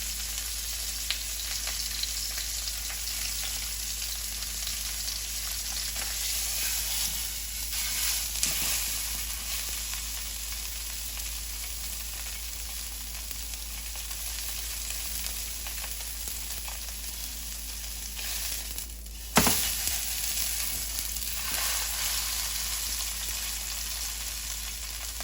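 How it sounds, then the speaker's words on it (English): Ahi tuna sears in a hot pan, giving a steady bright sizzle with a low background hum that runs without a break for the whole stretch, with a couple of brief louder crackles where the fish is turned. "We have it seared all the way around."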